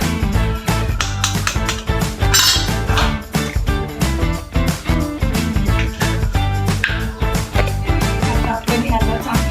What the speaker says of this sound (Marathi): आणि आता 3 अंडे फोडून